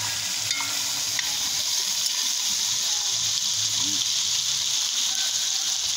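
Steady, loud sizzling of onion and seasonings frying in a pan for Caribbean saltfish, a continuous hiss with occasional faint clinks and no talking.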